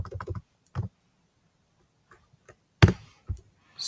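Scattered keystrokes on a computer keyboard, a quick burst of taps followed by a gap and then a few sharper, louder clicks, close and alone with no talk.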